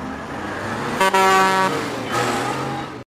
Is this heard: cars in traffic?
yes